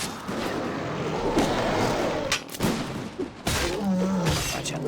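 Enemy cannons fire in the pirate-themed video game Warsword 64, heavy booming blasts and rumbling impacts that come in a few loud bursts with roaring noise between them.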